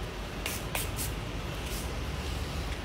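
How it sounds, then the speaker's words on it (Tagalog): A few short hissing bursts from a spray product, close by, over a steady background rumble; no talking. "Ayan, spray lang."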